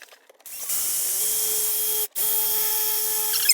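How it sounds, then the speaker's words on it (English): A power drill bores a hole in a water pipe while an RO filter is fitted under a kitchen sink, starting up with a steady high whine, stopping briefly near the middle, then resuming, close and loud. "Okay, now drill the hole."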